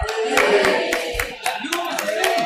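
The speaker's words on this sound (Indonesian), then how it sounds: "tepuk tangan ke Mas Ahmad Dhani" An audience at an Indonesian gathering about honorary teachers claps for Ahmad Dhani in a few scattered, moderately loud hand claps, with some background voices and noise under them.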